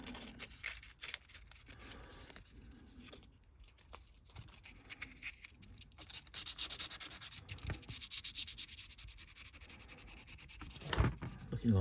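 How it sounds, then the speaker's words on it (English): Scrubbing and rubbing on the connecting rods of a Triang 'Princess Elizabeth' model locomotive being cleaned of grime, a close, steady scratchy brushing with irregular strokes that grows louder in the second half, with no talking. "So while that's in the cleaner, I'm going to clean these con rods up."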